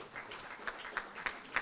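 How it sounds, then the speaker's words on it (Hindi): Applause at a health-sector award ceremony, a modest, fairly quiet patter of clapping with a few louder claps recurring at a steady pace. "जैसे मैंने कहा, तालियां जो है रुकनी नहीं चाहिए"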